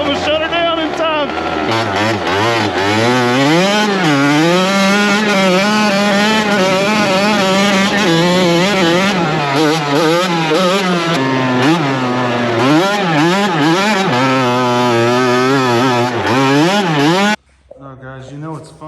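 Custom Honda TRX90 quad fitted with a CR85 two-stroke engine, revving loud and close in repeated rising and falling wails for most of the stretch before cutting off abruptly near the end.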